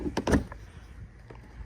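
A door panel on a 2004 Infiniti G35 Coupe being pulled free, a couple of close, sharp plastic clunks and pops at the start, then a quiet, low background.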